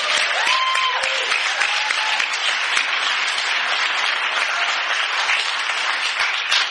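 Sustained applause from a convention audience honoring the convention committee, dense even clapping throughout with a brief whistle or cheer near the start.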